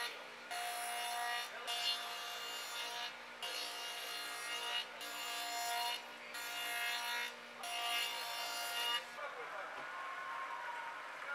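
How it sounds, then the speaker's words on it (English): A table saw with a 1/8 dado blade and 1/16 chipper cuts a grid of 3/16 grooves into a wooden chessboard bottom, about six rhythmic whining passes separated by short gaps, then quieter shop noise. "With a 1/8 dado blade and a 1/16 chipper installed, I cut a grid of 3/16 grooves into my bottom"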